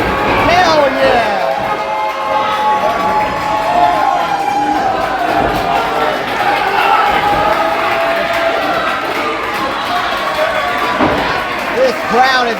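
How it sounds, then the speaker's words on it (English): A wrestling arena crowd at a five-on-five tag team match roars in a sustained frenzy, loud dense cheering and shouting filling the whole stretch, with a commentator's voice running over it. "This crowd is in an insane frenzy here."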